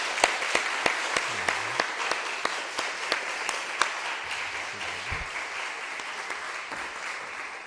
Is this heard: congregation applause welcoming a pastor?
yes